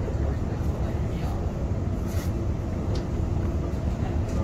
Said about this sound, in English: There's probably an airport train coming out of the other section.